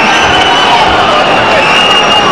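A boxing arena crowd during a Roy Jones Jr. bout keeps up a loud, sustained murmur of disapproval, a dense wash of many voices with no single voice standing out.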